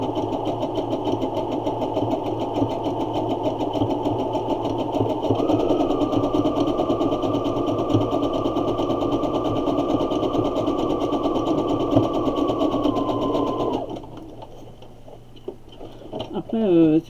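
A domestic sewing machine runs a continuous zigzag stitch to make a gathering thread in fabric, a loud steady mechanical whir that stops near the end, with a voice talking over it.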